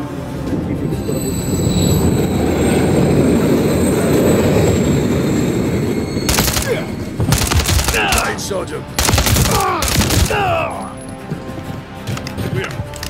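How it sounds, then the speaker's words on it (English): A train rumbles past in the Call of Duty: Modern Warfare III campaign. It is a loud, steady roar for about six seconds, then bursts of gunfire crack over it and voices shout. "Another train coming."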